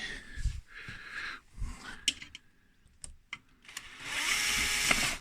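A power tool drives and tightens screws on a 3D printed RC Volvo EC550EL excavator, heard as short buzzing bursts and clicks up close, ending in a longer louder whirring run.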